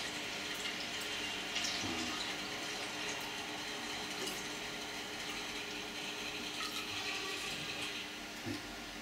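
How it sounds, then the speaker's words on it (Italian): Water is poured in a steady, fairly soft stream for a pizza dough mix, with a continuous splashing rush and no voices over it. "Quindi andremo a mettere 400 grammi di acqua."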